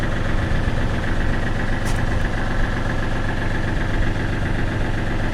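An engine on a hydraulic machine runs at a steady idle, a loud, continuous close-up drone with an even low rumble and no talk.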